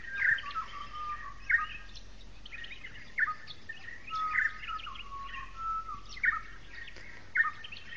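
Birds sing at night or in the early morning, giving repeated bright chirps and short trilling phrases at a moderate distance over a quiet background, with no talking.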